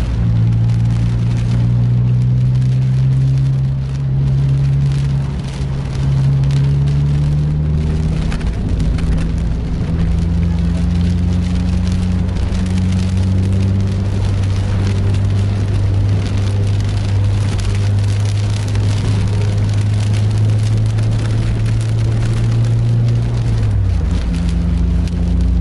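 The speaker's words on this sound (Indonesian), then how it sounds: "Baru aja mulai hujannya tadi cukup deras" Heavy rain drums on a sleeper bus on the road, a dense, loud hiss of drops over the deep hum of the bus engine. The engine tone rises and falls as it shifts gears.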